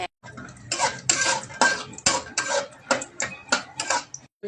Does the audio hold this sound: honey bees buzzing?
no